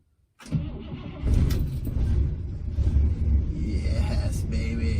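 A 1963 Pontiac Star Chief engine cranks and catches after a brief silence, then settles into a loud, steady low rumbling idle close by, with no talk over it.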